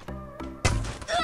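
A single heavy thunk from an M79 grenade launcher firing in the mobile shooter Free Fire, a loud punchy burst standing out after brief game sounds and followed by a bright ringing tail.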